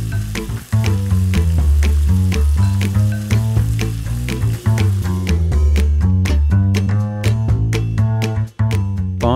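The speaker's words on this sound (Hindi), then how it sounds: "अब हम इसमें मटन डालकर अच्छे से फ्राई कर लेंगे।" Mutton fries in hot oil in a pan, a loud, continuous sizzle that carries on without a break.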